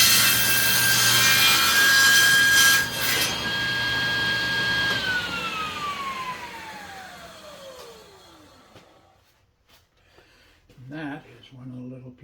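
Saw cutting a piece of wood for a tool stand, loud and close: a whining blade bites through the board, then winds down in a falling tone, followed by a short burst of speech.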